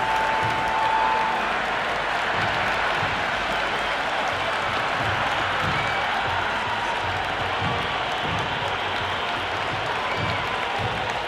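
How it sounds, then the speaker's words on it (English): Cricket 26 stadium crowd at a Pakistan versus USA match, a steady, dense roar of applause and cheering that holds loud and unbroken throughout, with faint commentary-like voices buried beneath. "It's evident and ever so audible that the crowd is at near bursting point at today's play"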